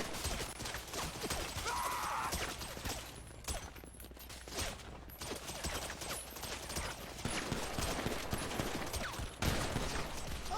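Rapid gunfire from a mobile battle game rattles in bursts throughout, dense and fairly loud, with no clear talk over it.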